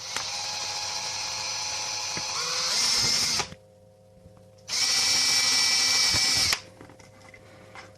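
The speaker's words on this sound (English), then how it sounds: "So, I'm going to drill through." A power drill bores through a game controller paddle while building a Scuf-style controller, in two loud close whining bursts, a long one then a shorter one, separated by a quiet pause.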